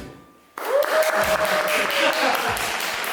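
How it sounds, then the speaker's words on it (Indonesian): After a quiet moment with a faint tone, applause from an audience at an MC school presentation starts abruptly and carries on as a steady clatter of hands, with a voice briefly over it. "Bisa tepuk tangan."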